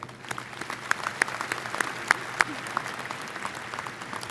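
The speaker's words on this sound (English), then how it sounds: "please recognize these individuals with your applause as well." Steady applause from a large audience at a Virginia Tech graduate school commencement ceremony, sounding distant and fairly soft, with scattered sharper claps standing out from the sustained patter.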